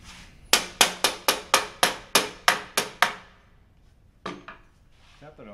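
Ten sharp, evenly spaced knocks as WASZP sailboat foil parts are tapped together during assembly, loud and close, followed by a pause and two more quick taps, with a little movement noise after.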